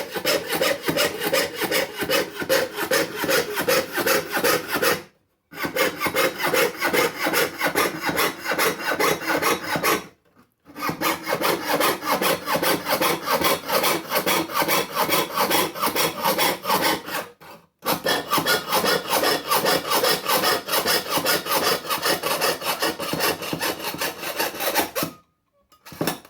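A hand saw with a beeswax-lubricated blade cuts through titanium sheet in fast, even strokes, a loud, steady rasping rhythm that stops briefly three times before resuming.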